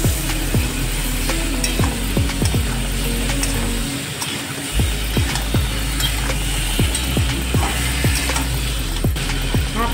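A fish head with dry chilli powder and spices is stir-fried in a pan, a steady sizzle broken by frequent, regular spatula scrapes and knocks against the metal, close and fairly loud, with no talk.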